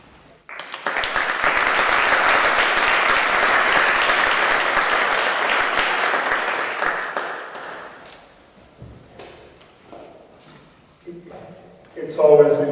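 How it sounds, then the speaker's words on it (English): An audience at a lecture applauds a professor: dense, loud clapping that runs for several seconds, fades out, and then gives way to someone speaking. "It's always interesting when people clap you before you even say a word."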